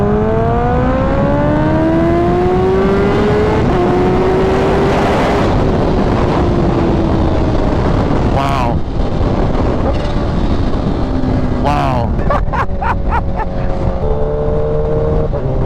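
A lowered, ECU-flashed, dyno-tuned Kawasaki Ninja H2 with changed sprockets pulling hard at full throttle from a roll, engine pitch climbing through rapid gear shifts under heavy wind rush, loud and close.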